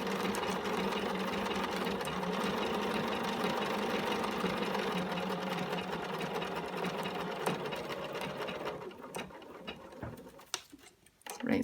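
Sewing machine stitching through denim for blue jeans, a steady rapid mechanical whir and tick close by, with a voice talking over it, then slowing and stopping near the end into a few clicks.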